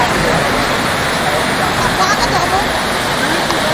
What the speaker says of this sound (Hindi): वीडियो में देखिए जरा किस कदर बाढ़ का पानी आबादी